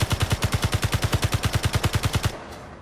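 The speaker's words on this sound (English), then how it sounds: "Oh, I'm shooting out the window." Rapid automatic gunfire from a turret in the Space Engineers video game, a loud, evenly spaced burst of about twenty shots that stops abruptly, followed by a brief fading tail.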